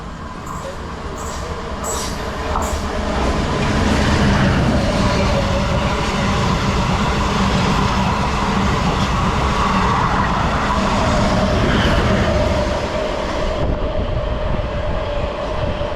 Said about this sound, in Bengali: দূরে রাধিকাপুর ডেমু আসছে